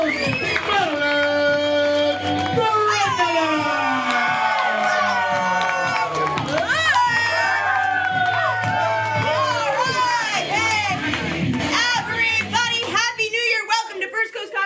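A comedy show audience at a New Year's Eve event cheers, whoops and screams loudly and continuously, with music-like tones threading through the roar; the din swells and stays dense throughout, thinning slightly near the end.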